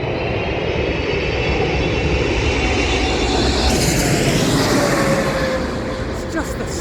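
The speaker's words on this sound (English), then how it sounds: "It's just the sound of the engine." A loud, continuous roar of a jet airliner engine during landing at Heathrow, steady and close, with a whine that shifts slightly toward the end.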